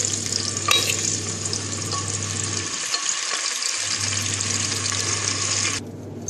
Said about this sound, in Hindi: इस तरह से मैंने आलू को गोल्डन ब्राउन फ्राई कर लिया है।